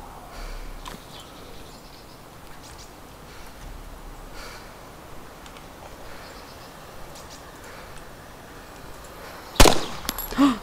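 Gunshots in the DayZ Standalone video game: one sharp, loud shot cracks after a long stretch of quiet ambient hiss, followed shortly by a smaller second burst.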